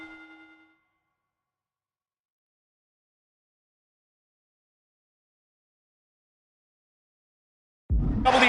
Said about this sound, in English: Bell rings